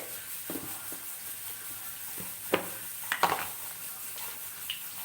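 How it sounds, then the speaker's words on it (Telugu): Mustard seeds spluttering in hot oil while tempering for a broad bean and tomato curry, with soft sizzling, a few sharp pops and light clinks of a pan, no talking. "చూడండి కొంచెం చిప్పట్లు ఆడుతున్నాయి కదా"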